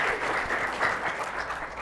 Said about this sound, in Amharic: እስቲ አጨብጭቡላችሁ፣ አጨብጭቡላችሁ።